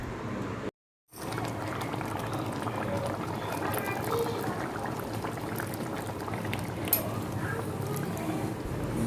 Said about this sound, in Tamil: பார்த்தீங்களா, நல்லா கொதிச்சிடுச்சு.